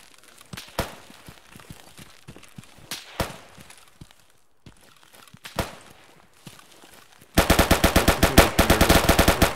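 Gunfire in the Arma video game: scattered single and paired shots ring out at varying distances, then a sustained, loud burst of rapid automatic fire closes the stretch, with no speech.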